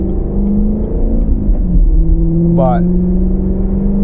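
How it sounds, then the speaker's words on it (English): A C7 Corvette fitted with an AWE Touring axle-back exhaust runs with a steady low engine note and a brief rev, all under continuous talking. "if you're wondering what that exhaust sound is, click the link up top here"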